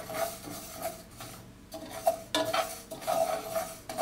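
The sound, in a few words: stirring roasting niger seeds (nug) in a pan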